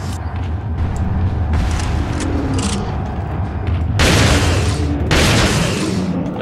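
Gunfire in the video game Resident Evil 4, loud and close, with steady heavy booms and two especially strong blasts toward the end over dense game noise.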